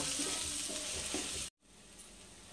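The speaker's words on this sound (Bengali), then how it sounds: "এবার আদা, পেঁয়াজ, রসুন বাটা আমি দিয়ে দিচ্ছি" Ginger, onion and garlic paste frying in a pan for doi katla fish curry, a steady close sizzle with light stirring that cuts out sharply midway, then returns fainter with a soft clink.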